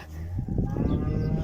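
A calf moos repeatedly up close, a continuous low bleating call with a few breaks in pitch, loud and filling the whole moment.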